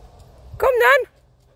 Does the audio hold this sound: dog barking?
yes